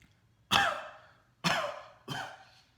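A person coughs three separate times, each a sharp, breathy burst that fades quickly, spaced roughly a second apart against a quiet background.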